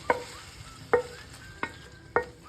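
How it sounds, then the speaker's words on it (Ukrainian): A utensil stirs braised cabbage with fried chicken in a pan, scraping and knocking four times at a slow, uneven pace, each stroke short and close, with a faint sizzle between. "Тепер це все нам потрібно гарно перемішати"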